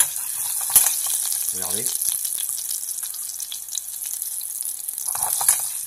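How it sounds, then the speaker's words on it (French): Gizzards sizzle and caramelize in a pan with a steady, bright frying hiss throughout, while a voice speaks briefly over it. "Et là, ça commence, regardez, ça commence à caraméliser légèrement."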